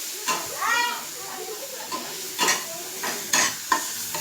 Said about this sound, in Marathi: मस्त भाजून घ्यायचं आहे. तर ही असं भाजून घेत आहे.